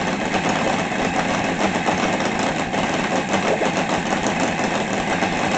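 Seidel UMS 7-70 70cc radial model-aircraft engine idling on a test stand, giving a steady, close, loud running drone with an even rumble throughout and no talk.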